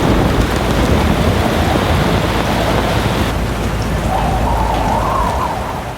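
Heavy rain pours steadily with a low rumble of thunder rolling underneath, loud and continuous, no voices.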